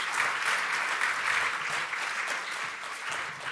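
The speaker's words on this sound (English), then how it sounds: "please give a round of applause to our opening panel" An audience at a pandemic risk report launch applauds the opening panel, with steady, even clapping from a sizeable crowd heard at a moderate, slightly distant level.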